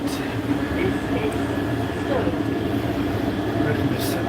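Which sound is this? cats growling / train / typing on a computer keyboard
train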